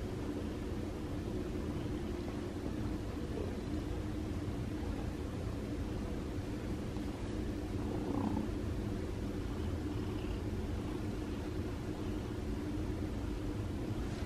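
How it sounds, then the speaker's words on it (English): A feral cat purrs loudly and continuously up close, a steady low rumbling texture with no pauses. "He's purring loud."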